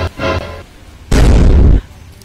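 A loud gunshot-style boom in a Malvani comedy skit, a short burst followed by a longer heavy blast.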